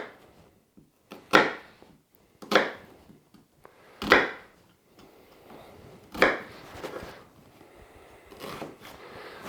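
A knife chops onions into large chunks for a turkey curry, giving about six sharp, separate cuts at uneven intervals, close and distinct against a quiet background.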